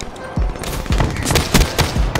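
MX Garand gunfire in the video game Black Ops 3, a series of sharp, loud shots in quick bursts, about six reports over two seconds, with hard impacts up close.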